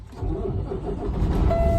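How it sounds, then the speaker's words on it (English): A truck engine cranks and catches during a CDL in-cab inspection, a low rumbling start that settles into a steady close idle, with a faint tone near the end. "we wanna start the vehicle"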